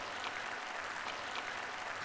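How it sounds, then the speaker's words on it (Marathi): A sermon audience applauds in a steady, even wash of clapping that holds at constant strength from start to finish, with no talking over it. "तुम्ही टाळ्या वाजवायलाच हव्यात कारण मी यावरच बोलणार आहे."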